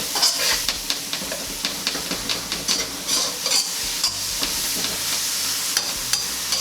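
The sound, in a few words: oil and chives stirred and sizzling in a wok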